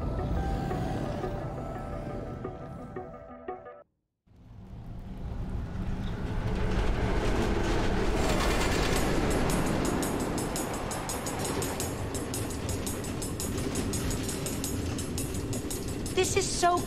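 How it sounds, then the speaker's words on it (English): Minecarts run on automated train tracks in Minecraft: Story Mode, a steady rumbling rail clatter that fades out briefly then builds to a loud, continuous roll with metallic rattles near the end. "Automated train tracks running all through the Nether?"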